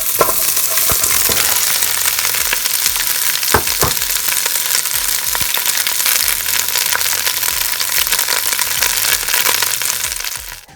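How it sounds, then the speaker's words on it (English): Onions and cabbage fry in a hot pan with a loud, steady sizzle and crackle throughout, a few sharper pops and stirring scrapes on top, until the sound fades at the very end. "I'm going to add the onions. And I'm going to add the cabbage."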